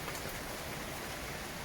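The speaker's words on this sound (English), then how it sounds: "that's only 15 minutes of rain" Cold rain still falling in Manila after a passing storm, a soft, even hiss of drops on surfaces, fairly quiet and unbroken, with no talking.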